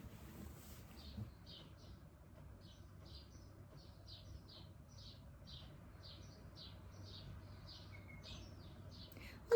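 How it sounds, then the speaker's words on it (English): Birds sing outdoors in a series of faint, rapid, high chirps repeated steadily over a low hum of wind and background noise. The birds sound somewhat distant. "Well, the birds are loud today,"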